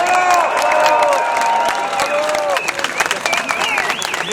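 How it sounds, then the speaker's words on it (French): A crowd at a Paris political rally breaks into loud clapping with cheering and shouting voices over it. The applause is dense at first and then thins into scattered claps and calls. "je vous prie de faire un tonnerre d'applaudissements"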